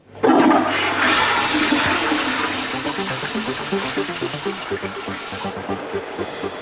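A household toilet flushes loudly up close, opening with a sudden rushing surge that swirls and gurgles down into a softer draining trickle, with nothing else heard.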